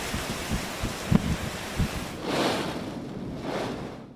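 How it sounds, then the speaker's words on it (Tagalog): Strong Super Typhoon Nando winds of about 205 km/h lash Santa Ana, Cagayan at night, rising in broad roaring gusts with rustling and a few low thumps, loud and continuous without speech. "Mabangis at tila umaalulong ang hangin sa Santa Ana, Cagayan kagabi."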